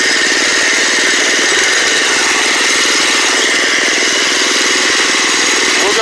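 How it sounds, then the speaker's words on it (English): A small engine runs at mid-throttle during carburetor adjustment, a loud, steady buzzing drone with an even rapid firing pulse and no break. "run it about mid-throttle and try to get it to where the engine runs at its highest RPM"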